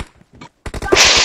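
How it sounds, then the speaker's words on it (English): Gunfire in the battle royale video game PUBG: a quick run of sharp shots, then a dense, loud automatic burst with a bright crack near the end. "I'm getting shot from every which direction"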